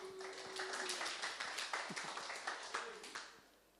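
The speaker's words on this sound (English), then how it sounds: "She gets a clap" A church congregation breaks into a burst of clapping, many hands in quick irregular patter that holds fairly evenly and then tapers off at the end, moderately distant.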